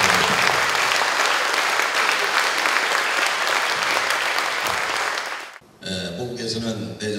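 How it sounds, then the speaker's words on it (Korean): Loud, dense applause from the audience at a 2011 Grand National Party Greater Toronto inaugural rally greets a visiting Korean lawmaker, sustained for several seconds before cutting off abruptly, then giving way to a voice speaking. "우리 다 같이 큰 박수로 환영을 맞이해 주시기"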